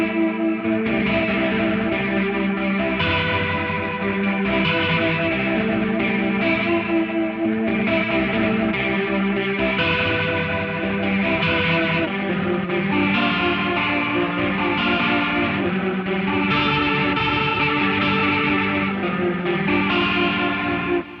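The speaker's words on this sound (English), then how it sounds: "Right now, we are running through a rotary on the driven amp." A JET JS-700 electric guitar played through a rotary effect on a driven amp, giving swirling, distorted chords and notes that throb and shimmer continuously with no talking.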